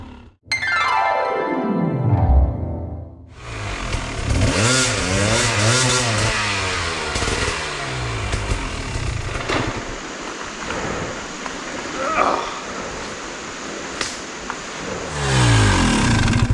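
An enduro motorcycle is eased through a low trail obstacle in Pachaug State Forest. A close engine revs and drops repeatedly in uneven bursts after a brief initial rising whine, with no talk.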